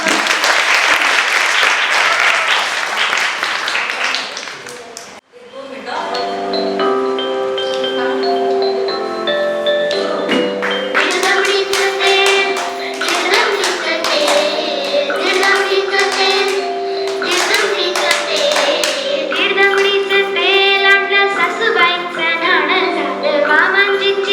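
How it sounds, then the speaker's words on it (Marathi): A dense burst of audience clapping fills the first five seconds at a short film screening ceremony held by Prism Foundation in Pune, then cuts off abruptly as loud music with voices takes over. "सगळ्यांनी एकदा टाळ्या वाजवा"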